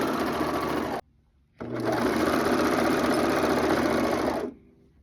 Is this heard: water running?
no